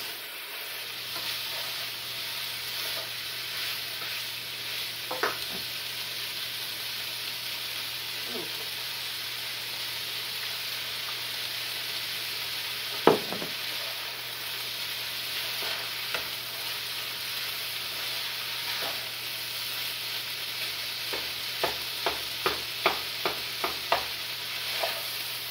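Rice fries in a pan with soy sauce, a steady soft sizzle beneath repeated scraping stir strokes, with a run of quick clattering strikes near the end.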